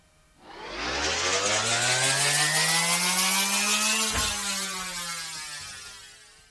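A milling machine spins up and cuts a Hilma Röhmheld machinist vice, its rising whine settling into a loud, steady metal-cutting roar that fades away near the end.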